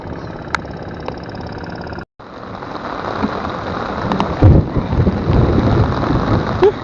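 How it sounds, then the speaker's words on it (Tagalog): Heavy rain during a fishing trip, a dense, loud, continuous roar of downpour close by, with a brief cut partway through and deeper rumbling surges later. "naabot tayo ng malakas na ulan"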